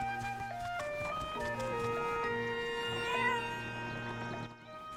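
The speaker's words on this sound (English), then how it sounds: "There's another cat." A cat meows inside the video game The Legend of Zelda: Echoes of Wisdom, heard near a windmill as short repeated cries over steady game background music.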